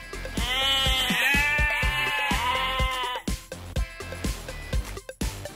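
A sheep bleats loudly and close in a long wavering cry, followed by quieter clicks and shuffling sounds.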